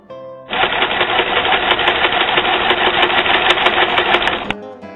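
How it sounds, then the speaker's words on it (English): A sewing machine stitches a recycled denim stocking in one continuous, loud, rapid whirring run of about four seconds, starting and stopping abruptly, with no talk. "I just fold it down and sew it also."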